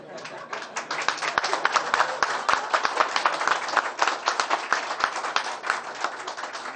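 Studio audience at a Pakistani television event clapping together, a dense, steady patter of many hands with sharp individual claps, moderately loud and sustained throughout without talk.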